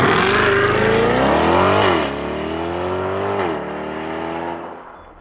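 Chevrolet Corvette C8 E-Ray hybrid with its V8 heard from outside as it switches into gas mode, a loud, steady engine drone that rises, dips after about two seconds, swells again and then fades away.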